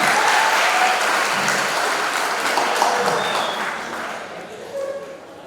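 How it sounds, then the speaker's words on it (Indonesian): Audience applause honoring the parents at a graduation motivational speech, a dense steady wash of clapping that stays loud and fades slightly toward the end, with a voice faintly audible beneath. "Tepuk tangan buat Bapak Ibu orang tua kita semua yang ada di sini"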